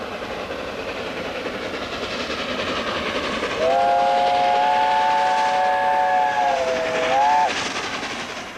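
A Gresley A4 streamlined steam locomotive rolls past with a steady, loud rumble, and partway through a long multi-tone whistle blows for several seconds before cutting off.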